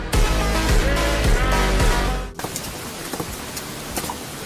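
Rain falls steadily in an anime fight scene, a continuous hiss of drops that follows a louder burst of dramatic music which cuts off abruptly, with no talking.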